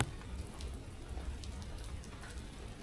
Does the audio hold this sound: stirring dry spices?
no